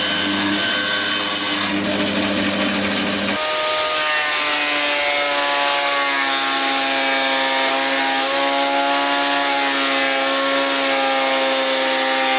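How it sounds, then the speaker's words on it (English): Bandsaw ripping reclaimed pallet wood boards to equal width, a loud continuous whine with tonal ringing that changes as the blade bites into the wood. "So I ripped them down on the bandsaw to make sure that each board was the same width."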